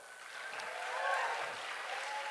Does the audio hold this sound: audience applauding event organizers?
yes